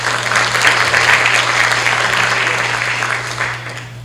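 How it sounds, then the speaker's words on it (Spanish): Audience at a Peruvian legal seminar gives loud, sustained applause, a dense wash of clapping that fades slightly toward the end. "La recibimos con fuertes palmas"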